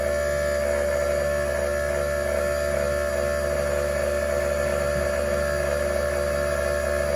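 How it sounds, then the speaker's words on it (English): An air compressor runs steadily in a home garage during DIY powder coating, giving a constant loud mechanical hum with tonal drone that fills the whole stretch without a break and with no talk over it. "Apologize for the air compressor."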